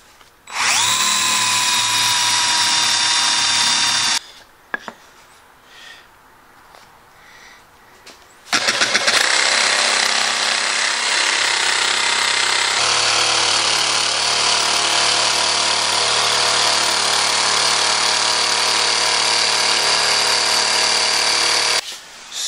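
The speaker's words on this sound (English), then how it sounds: "by drilling out that center point and then using my jigsaw to get rid of the rest" A power drill bores out the center point of a wooden router table top, loud and steady in long bursts with a brief quieter pause partway through.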